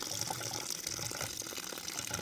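Water poured into a drain floods and rushes beneath, a continuous, dense hiss and gurgle of flowing liquid heard close and steady throughout, with no talking.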